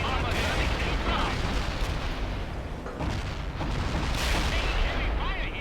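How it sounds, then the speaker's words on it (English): Artillery barrage striking in the video game World in Conflict: dense, loud rolling booms and blasts overlapping continuously, with radio voices talking over the bombardment. "Commence the artillery strike. Fire the barrage."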